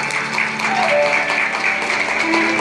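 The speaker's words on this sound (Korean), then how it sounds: "박수 부탁드리겠습니다." Wedding guests in a hotel ceremony hall break into brief, steady applause that lasts a few seconds.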